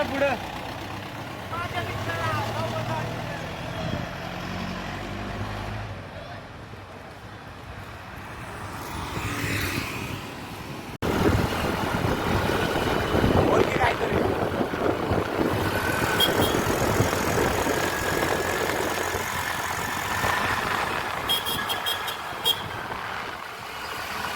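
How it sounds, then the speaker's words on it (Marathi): A car driving on a road makes a continuous engine and tyre rumble that grows louder and busier partway through, with other traffic around and people talking over it. "गाडीची स्पीड बघा कसं चालवते बाब्या."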